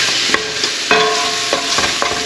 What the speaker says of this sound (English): I'm going to add my onions to the skillet and fry them just a little bit